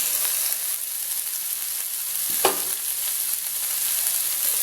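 Carrot and shredded cabbage sizzle steadily in a hot pan for stir-fried chicken noodles, a constant hiss with one brief scrape of stirring near the middle.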